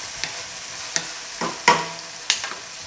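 Onion and zucchini being stirred in a frying pan, a few spaced scraping strokes with faint sizzling, close up with no talking.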